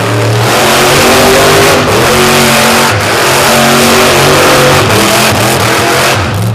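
A pulling truck's engine roars loud and continuous at a truck pull, its pitch climbing and dropping through repeated gear shifts at full throttle.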